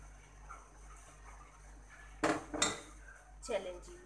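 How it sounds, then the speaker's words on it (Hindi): A spoon clinks and scrapes against a pot as beaten egg is stirred into chicken corn soup, giving a few sharp metallic knocks over a quiet background hum. "और फौरन से हिलाते जाएंगे।"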